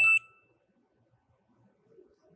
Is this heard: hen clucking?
no